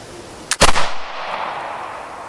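One sharp, loud shot from a flintlock smooth-bore pistol cracks out after a short quiet pause, then fades into a brief echoing tail.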